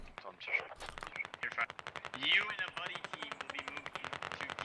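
Gunfire in the military shooter game Squad: rapid automatic bursts and single cracks, some near and sharp, others more distant, rattling in quick rhythmic runs while someone talks over them.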